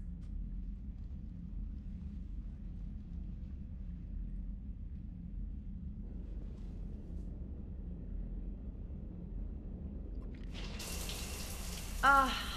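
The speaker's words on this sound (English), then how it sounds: "I figured you'd be more interested in a shower." Shower water in the video game Mass Effect 3 starts near the end, a sudden bright hiss of running spray over a low, steady ambient rumble, with a brief voice at the very end.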